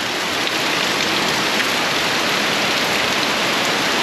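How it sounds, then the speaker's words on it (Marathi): Heavy rain driven by wind pours down on a village in Ratnagiri, a loud, unbroken hiss of downpour that fills the whole stretch evenly, with no voices. "आज वारा आणि पाऊस दोन्ही सुद्धा सुटलेला आहे."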